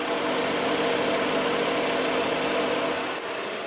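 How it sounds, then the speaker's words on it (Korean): A 1980s V6 petrol engine, freshly rebored with only about 10,000 km since, idles with a steady, even hum that runs close and unbroken throughout. "엔진 소음 먼저 들려드리면은"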